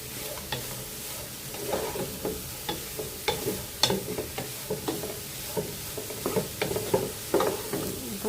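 Chopped cabbage and long beans are stir-fried in a hot pan for rice, with a steady sizzle under repeated scraping and clattering stirs, the loudest ones spaced through the back half.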